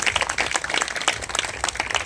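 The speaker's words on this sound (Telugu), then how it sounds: "చప్పట్లు కొట్టి దేవుని నామమున" An audience at a Christian worship gathering claps their hands together in praise, a dense, steady burst of applause heard close and loud throughout.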